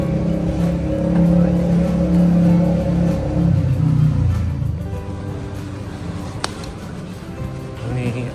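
Buses heading to Surabaya idle and rumble at a bus terminal, a heavy engine drone that swells and then fades as one pulls away, with a sharp clack near the end.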